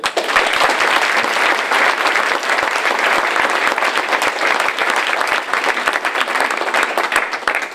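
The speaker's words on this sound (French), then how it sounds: "un tonnerre d'applaudissements pour Brigitte Fourré." Audience applause fills a hall at a French political meeting, a steady, loud roar of many hands clapping at once that continues evenly for several seconds with no voices.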